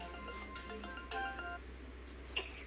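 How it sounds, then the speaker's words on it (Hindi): Mobile phone ringtone for an incoming call, a faint melodic ring with repeating tonal notes over a quiet room, ending with a small clink. "फ़ोन आ रहा है मुझे।"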